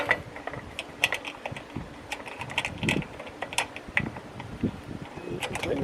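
Lock nuts with nylon inserts are tightened onto an RV awning mount, giving a run of close, irregular metallic clicks and ratcheting ticks with light handling noises between them.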